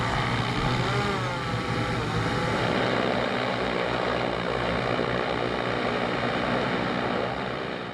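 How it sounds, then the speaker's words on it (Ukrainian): Droning propeller noise from a Kazhan heavy bomber strike drone, a steady, loud, continuous hum with faint rising and falling tones, holding evenly across the whole stretch with no voices. "перед нами Кажан, важкий бомбер. Кажан, да, тяжелый ударный дрон."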